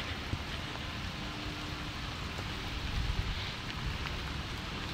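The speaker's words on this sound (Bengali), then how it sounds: "বৃষ্টি হচ্ছে," Steady, fairly faint rainfall hisses continuously, with scattered drops pattering on a surface and no voices.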